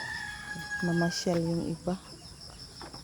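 Chickens on a backyard poultry farm, a few close harmonic clucks and squawks in short bursts, heard under and between a person talking nearby.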